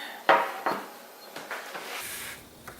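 Silicone baking pans being handled in a kitchen while making vegan pumpkin apple muffins, giving a few soft knocks and rubbing clatters spaced out over a few seconds, close by and fairly quiet, with no speech.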